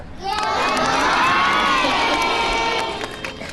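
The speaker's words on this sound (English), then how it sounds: "can we have a great big good morning to each other?" Schoolchildren shouting a big good morning together, one loud unified crowd shout swelling and holding for about three seconds before fading, close and alone.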